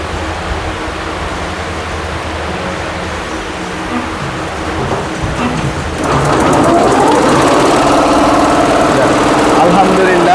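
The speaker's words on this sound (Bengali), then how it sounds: "মেশিন স্টার্ট হয়ে গেছে এবং আমাদের কাজ শুরু হয়ে গেছে" A new embroidery machine hums steadily, then swells into a louder, denser whirring drone as it starts stitching, running continuously with a busy mechanical texture throughout.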